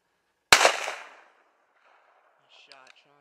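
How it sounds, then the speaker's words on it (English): A single sharp gunshot rings out across snowy ground during a daytime coyote hunt, loud and close with a short fading echo, followed by faint voices a moment later. "You shot, Sean."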